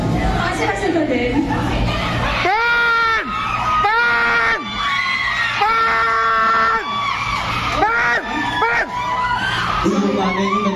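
A group of people shout loudly together in unison, long sustained yells repeated several times in a close, rhythmic pattern, with other voices chattering in between.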